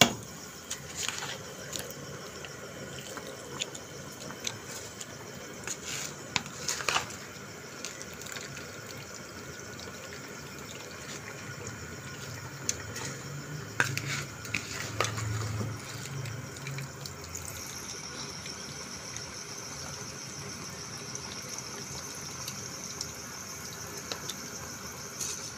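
Rice poured into a cooking pot of water while making matar pulao, with watery splashing, trickling and scattered clinks up close, a faint steady hiss underneath, no talking.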